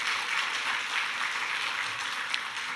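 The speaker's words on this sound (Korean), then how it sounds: "인사하시고 앉으실 때 크게 박수해 주시기 바랍니다." Congregation applauding during a Sunday worship service at a Methodist church in Bupyeong, a steady, even wash of clapping that stays at moderate loudness throughout with no voices over it.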